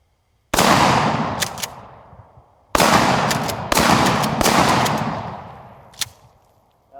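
Three loud, close blasts from a Mossberg 500 12 gauge pump shotgun firing 2 3/4 inch buckshot, each sharp report ringing out into a long decaying echo, with a fainter shot near the end.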